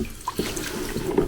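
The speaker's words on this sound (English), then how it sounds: "wring out your sponge" A tiling grout sponge is wrung out through rollers, and water drips and trickles from it in a few soft, close splashes over quiet room tone.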